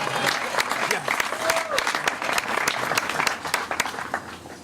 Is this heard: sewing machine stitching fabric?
no